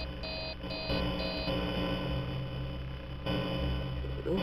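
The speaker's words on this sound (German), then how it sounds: "Irgendwas hat dieser Alarm doch zu bedeuten." Alarm in the video game Five Nights at Freddy's 3, a steady electronic tone with beeping layered over a droning hum, sounding continuously with no voice over it.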